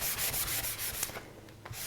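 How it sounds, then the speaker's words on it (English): Scuff sanding dried glaze over General Finishes milk paint by hand with a 220 sanding pad, a close series of quick rhythmic scratchy rubbing strokes that slow and thin out in the second half. "you can adjust the glaze color by scuff sanding with a 220 sanding pad"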